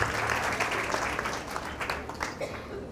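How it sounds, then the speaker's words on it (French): An audience at a ZEN fair applauds Carole after her palm-reading demonstration, a steady wash of clapping from a crowd, moderately loud and continuous, with some voices mixed in. "je vous propose d'applaudir vraiment Carole pour sa prestation"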